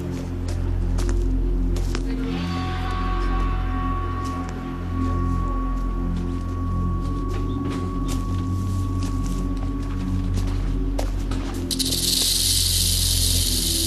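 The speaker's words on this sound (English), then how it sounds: "If the sound of the rattle fails to deter this intruder" A rattlesnake's continuous dry buzzing rattle hisses steadily for several seconds amid faint background noise, ending with a brief burst of broadband hiss.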